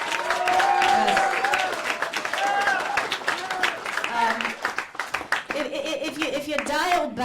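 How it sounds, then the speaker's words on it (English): An audience claps at a live talking event introducing a guest, dense rapid handclaps loud and close at first, thinning and fading toward the end as voices come up over the last of the applause. "clap a lot"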